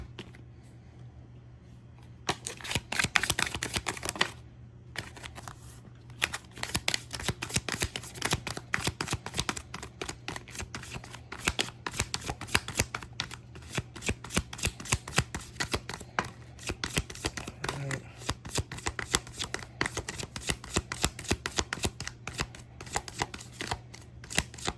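Tarot cards shuffled continuously at close range, a dense run of rapid papery flicks and riffles with no speech, steady in level after a short quiet start.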